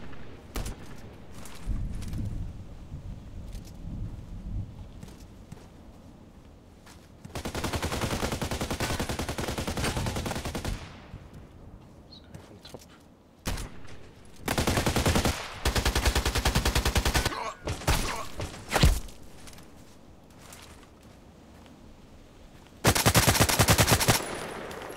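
Bursts of SVU-AS rifle fire in the Contract Wars video game: several loud rapid strings of shots separated by quieter gaps, ending in a final sharp burst.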